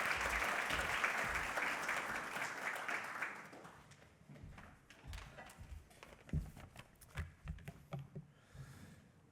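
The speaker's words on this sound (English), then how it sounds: "So big round of applause" A conference audience at Future Oil & Gas 2026 breaks into dense applause. It then thins into scattered individual claps that fade out over several seconds.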